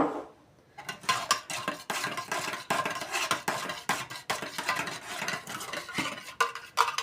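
Utensil stirring a cheese pastry dough mixture in a bowl (salted cheese, cașcaval and butter pogace), a steady run of scraping, clinking strokes close up after a brief quiet start, with no talking.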